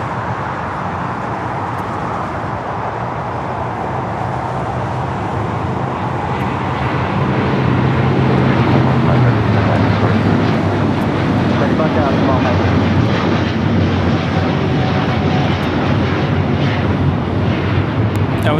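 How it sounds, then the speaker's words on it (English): An All Nippon Airways Boeing 787-9 Dreamliner takes off at LAX, a loud, steady jet roar that swells partway through and holds, broadband and continuous, with crowd or voices faintly mixed in. "That was all Nippon Airways Flight 5 taking off to Tokyo Narita on the 787-9 Dreamliner"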